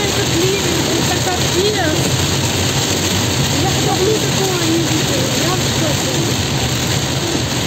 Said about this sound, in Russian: Посмотрите на этот ливень